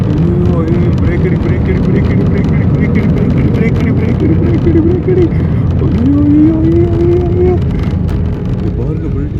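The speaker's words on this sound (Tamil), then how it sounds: "இப்போ லேண்ட் ஆக போகுது." Passenger airplane landing and braking on a runway near Tawang, Arunachal Pradesh, heard from inside the cabin as a loud, steady engine roar with rising whine tones. Talk runs underneath throughout.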